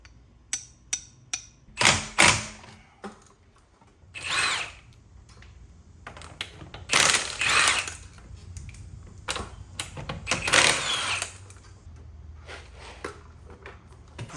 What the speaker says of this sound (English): What I would recommend is taking your punch